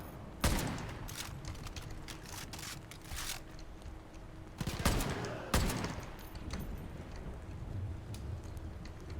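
Gunfire from shooting enemies in the Far Cry 5 video game on a custom arcade map, a few loud scattered shots with softer bursts between them over a busy game background, fairly distant and without talk.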